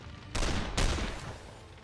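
Two loud, booming gunshots ring out in a video game, the second coming about half a second after the first, each trailing off in a long echoing decay.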